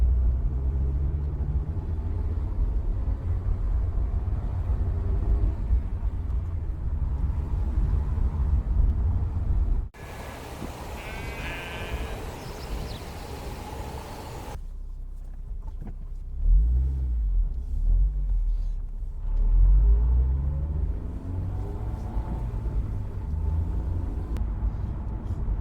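A Honda S2000 sports car driven along narrow, twisting country lanes in the Cotswolds, with a continuous low engine and road rumble that changes character partway through and swells briefly, no talk.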